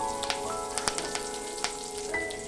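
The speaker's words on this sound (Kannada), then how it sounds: "ಸ್ವಲ್ಪ ಎಣ್ಣೆ ಗಿಜ್ಜು ಹೋಗೋಮಟ್ಟ ಫ್ರೈ ಮಾಡ್ತಾ ಇರಬೇಕು" Mustard seeds, crushed garlic and curry leaves fry in hot oil, giving a steady close sizzle broken by sharp pops and crackles of bursting seeds, with no voices.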